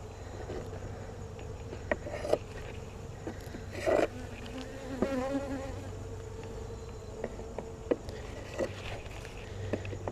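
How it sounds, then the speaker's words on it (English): Live bees hum faintly around a hive feeder, a low buzzing bed under scattered clicks and handling knocks, with a brief louder buzz as one passes close. "Here's a live bee."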